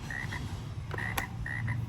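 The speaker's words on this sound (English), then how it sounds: "the frog says." Repeated frog croaks in short paired bursts, each a bright raspy call, sounding three times over a steady low background hum in an animal-sounds lesson for toddlers.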